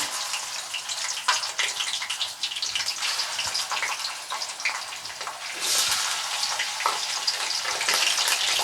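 Half a kilo of chicken frying in hot ghee in a karahi, a loud, crackling, spattering sizzle that swells louder toward the end, close and continuous with no voices.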